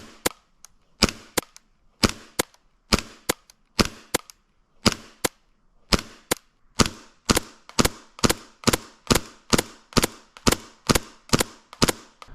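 Airsoft CQB submachine gun firing single shots at a target 80 feet away: sharp, snappy cracks in a steady series, sparse at first and then coming faster and more regularly, each one close and loud with no talking.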